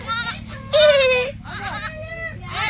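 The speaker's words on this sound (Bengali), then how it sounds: "হ্যাঁ অনেকগুলা ছাগল আছে" Several goats bleat in a village yard, a loud drawn-out cry followed by shorter wavering calls close by, with a voice talking around them.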